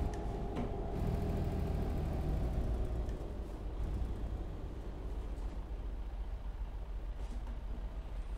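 Engine brake on a 2020 Freightliner Cascadia truck, a steady, heavy low rumble that holds throughout, close and continuous, with no talk over it.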